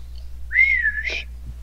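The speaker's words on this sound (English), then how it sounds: "He whistles as his bike comes flying." A single rising whistle from a person, sliding up and holding a wavering pitch for about a second, clear and close over a low steady hum.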